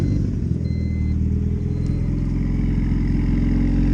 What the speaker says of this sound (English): This car literally has a sound of no car I've ever heard before